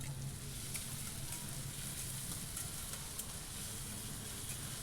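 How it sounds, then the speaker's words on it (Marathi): Finely chopped onions frying in hot oil with chillies, a steady, even sizzle and crackle at low volume with faint stirring ticks throughout. "मिरच्या छान गरम झाला की यामध्ये ॲड करायचं आहे आपल्याला बारीक चिरून घेतलेले कांदे"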